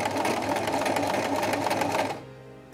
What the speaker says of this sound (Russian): И теперь начинаем шить.